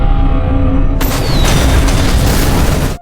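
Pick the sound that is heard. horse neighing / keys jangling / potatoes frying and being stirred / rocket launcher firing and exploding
rocket launcher firing and exploding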